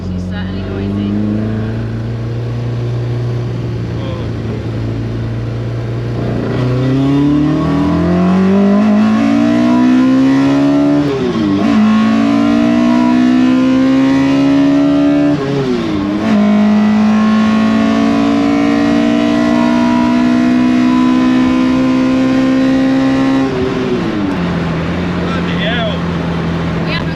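A carburetted YB Cosworth-engined Mk2 Ford Escort revs loudly and continuously close by, its engine note climbing in stepped surges and briefly dropping between pulls.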